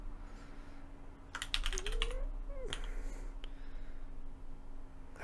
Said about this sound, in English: Oh boy, that's a lot of typing.